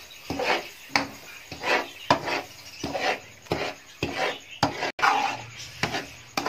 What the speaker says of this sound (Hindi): साथ ही आप चमचा चलाते जाएं बराबर